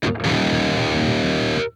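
A heavily distorted electric guitar chord rings through the Neural DSP Archetype Gojira plugin with stock pedal tones, one loud sustained strum held for over a second before being cut off abruptly.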